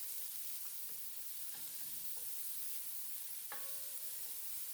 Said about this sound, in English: We're gonna saute this around and let the onion break down, get nice and caramelized, a little bit light brown